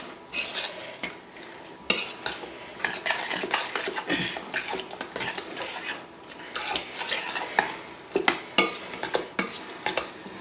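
Crème fraîche gets stirred into a tuna and mushroom filling in a pan for a tuna mushroom cheese tart. A spoon scrapes and clinks against the pan in an uneven rhythm over a soft sizzle, close and with no voices.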